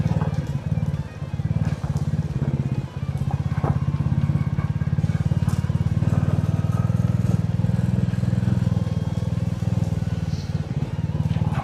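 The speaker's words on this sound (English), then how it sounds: "There's some fallow bikes just gone down there." Motorcycles at a rally ride over a rough, dusty track entrance, a steady close engine drone with rattles and clatter running throughout.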